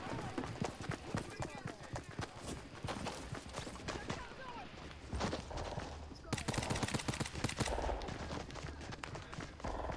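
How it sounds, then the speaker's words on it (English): Rapid gunfire in the video game Fortnite, with many players shooting at once: dense bursts and cracks run continuously throughout, mixed with footsteps and a person talking over them. "loads of people are shooting me"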